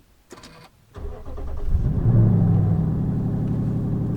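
A V8 muscle car's engine cranks after a few brief clicks, catches, and settles into a deep, loud, steady rumbling idle, close by with no talking.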